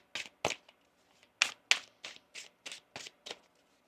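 A run of about ten crisp riffling bursts of tarot cards being shuffled, evenly spaced and close up, with no talking.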